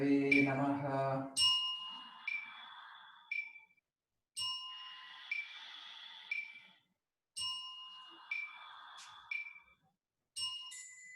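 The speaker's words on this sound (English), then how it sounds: "I was practicing along with the bells" Bells ring repeatedly during Hindu chanting practice, bright metallic dings struck in clusters with sustained shimmering decay, recurring every couple of seconds, after a brief chanted voice at the start.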